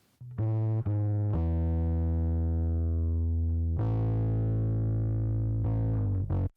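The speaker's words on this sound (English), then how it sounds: "I've got a little bit of parallel distortion from the decapitator. Here's what that sounds like soloed" Soloed parallel distortion from a Decapitator plugin on a bass line, heard as loud, buzzy, saturated sustained low notes that hold and shift pitch only a few times.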